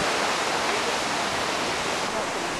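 A waterfall in Yosemite National Park roars as a steady, dense broadband rush that stays loud and unbroken throughout, with no gaps or distinct events.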